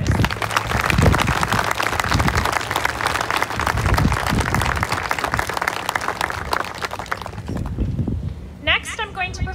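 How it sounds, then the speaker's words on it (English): Sustained applause from a graduation audience at a high school ceremony in Gimli, Manitoba, dense and steady for most of the stretch before fading near the end, with voices mingled in. "join me in giving a round of applause for all of our exceptionally generous donors"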